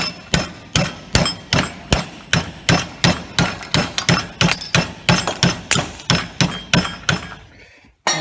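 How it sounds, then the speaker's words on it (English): Steady, rapid hammer blows ring out on metal held in a vise during a rusty Toyota KE20 rebuild, about two or three per second, loud and close, stopping abruptly near the end. "Got it in the vise, I'll just hammer it over."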